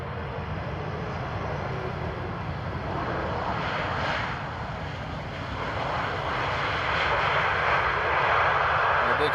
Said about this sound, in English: A nice E2 by the looks of it. And there we go, touchdown.